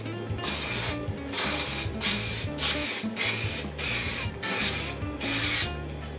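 An aerosol can sprays near linear rails during a DIY planar magnetic headphone build, eight loud, close bursts of hissing in a steady rhythm with short gaps between.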